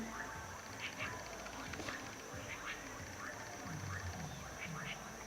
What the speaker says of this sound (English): Frogs are starting up.